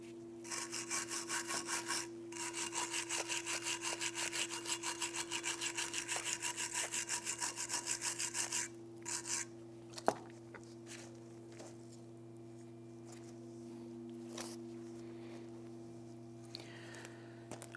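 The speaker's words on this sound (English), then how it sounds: "use a file to go ahead and clean that up" Hand file scraping rust off a rear brake caliper bracket on a 2005-2007 Ford Five Hundred, rapid rhythmic rasping strokes for about eight seconds, then a pause, a few more strokes and quiet clinks over a steady hum.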